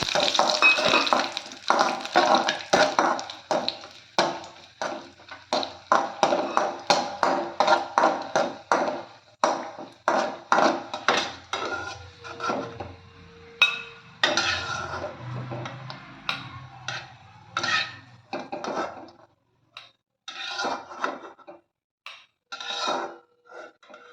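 Raisins fry in a pan with roasting semiya for a sweet kesari, heard as repeated stirring scrapes and light clicks of a spoon against metal over a faint sizzle, rhythmic and close, thinning out toward the end.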